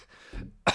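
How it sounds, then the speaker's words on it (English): One short, close cough from choking on coffee, a single abrupt burst after a soft throat sound, with nothing else around it. "I coughed."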